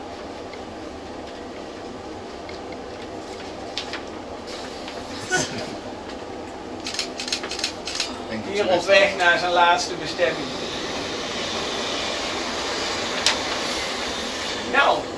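Electric Mat 64 passenger train running past on the Dutch Schiphol line, a steady rolling rumble with rhythmic clicking over rail joints, swelling midway, while someone speaks over it.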